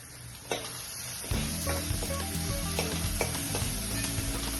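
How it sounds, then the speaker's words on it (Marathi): Spice masala sizzling in a pan for spicy masoor dal amti, a steady close frying hiss that jumps louder partway as more goes in, with faint stirring scrapes. "आणि हा मसाला चांगला परतून घ्यायचा 2 मिनिटं"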